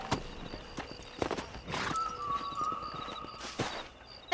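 Horse hooves clip-clop in the Western video game Red Dead Redemption, a few sparse, quiet hoofbeats alongside a soft whinny-like tone, with no talk over them.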